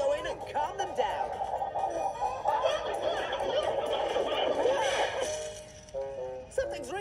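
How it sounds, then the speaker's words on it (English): Chickens fussing inside a chicken coop in a cartoon, a busy stretch of agitated clucking and squawking layered over music, ending in a few sharper bursts. "The chickens are making such a fuss!"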